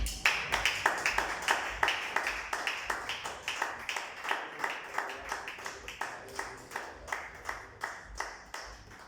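A church congregation claps together in steady, rhythmic unison, roughly twenty sharp claps ringing out at an even pace with no talking over them.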